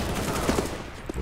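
A quick burst of gunfire from CS:GO gives a few sharp, close shots packed into about a second.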